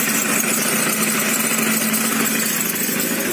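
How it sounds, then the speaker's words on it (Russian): A running motor with a worn bearing gives a steady, loud mechanical drone carrying a thin, continuous squeaking whine over it. "Вот слушайте скрип этот."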